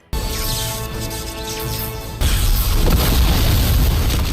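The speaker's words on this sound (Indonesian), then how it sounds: "Terjadilah ledakan cukup besar" An animated fantasy battle: a big explosion erupts midway as a loud, rumbling roar that stays intense to the end, following a steadier tonal passage.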